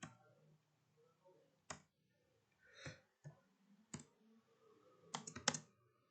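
Sparse, close clicks of typing on a computer keyboard come in irregular bursts, with short pauses and a quick flurry of keystrokes near the end, over a quiet background.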